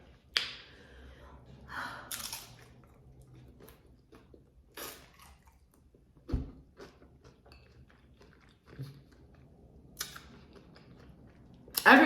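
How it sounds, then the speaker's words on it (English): Close chewing and crunching of tuna tacos comes in scattered bursts, with wet bites and soft mouth sounds between quiet pauses. "So when I'm chewing and crunching, I can like really hear it."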